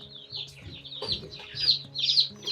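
Lavender Orpington chicks and chickens in a straight-run group peep and cluck in a steady, fairly close chorus of overlapping high chirps, with no talking.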